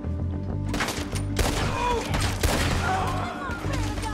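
Rapid gunfire in the Red Dead Redemption video game, several loud cracking shots in quick succession with ringing tails over a low tonal music bed, someone talking briefly in between.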